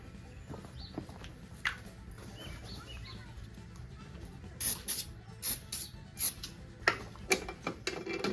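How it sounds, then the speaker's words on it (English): Short hissing bursts of penetrating oil sprayed onto lawnmower deck bolts, several quick squirts in the second half, close by, with faint background clatter and no speech. "we're gonna spray down some of these bolts"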